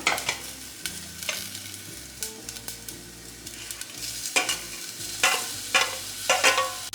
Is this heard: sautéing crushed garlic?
yes